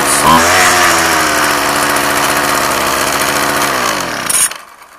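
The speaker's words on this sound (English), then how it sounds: "You hear the hesitation there when it idles." McCulloch chainsaw engine running close and loud with a steady buzzing idle, wavering in pitch with a slight hesitation, then cutting off abruptly near the end.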